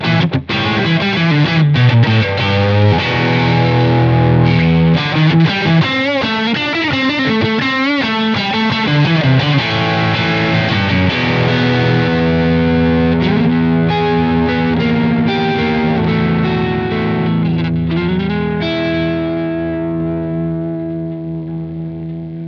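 Heavily distorted electric guitar through a distortion pedal used as a preamp into a Mesa power amp plays gritty riffs and bends, thick and saturated, then settles into a long sustained chord that slowly fades.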